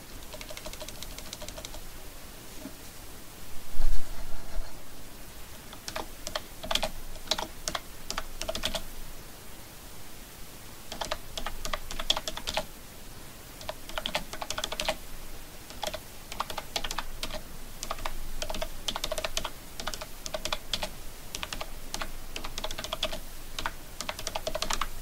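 Typing on a computer keyboard, close-up bursts of rapid key clicks separated by short pauses, steady and moderately loud with no speech.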